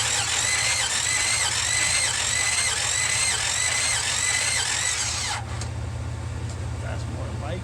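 A 1966 Buick Riviera GS engine cranks on the starter during a compression test, a loud rhythmic whirring churn that runs for about five seconds and then cuts off abruptly, leaving a quieter hum.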